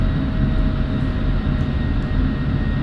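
F-16 jet engine idling back in the DCS flight simulator, a loud, steady low rumble and roar with a faint high whine held evenly throughout, no voices.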